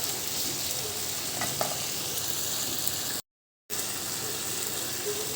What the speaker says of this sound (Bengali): আলুটা দিয়ে একটু কষতে হবে।